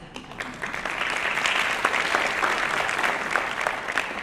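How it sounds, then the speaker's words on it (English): Sustained applause from an audience at an awards ceremony, a dense wash of many hands clapping that swells within the first second and holds steady and full until the end, with no voices over it. "so here's my applause too"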